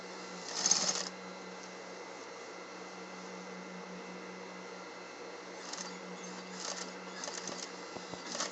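A sewing machine runs with a steady, even whir, using a long stitch to sew a thick shoulder pad onto a jacket sleeve seam. It is quiet and close, with a few faint clicks and knocks near the start and end.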